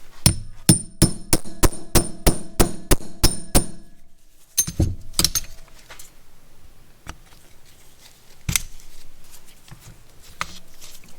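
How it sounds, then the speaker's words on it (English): Rapid impact driver rattling on big flathead screws of a 1944 Ford tractor carburetor: a fast run of about ten sharp metallic hits, then a pause and scattered clanks and taps from loosening the screws, close and loud. "These screws I think I'm going to have to use the impact driver on."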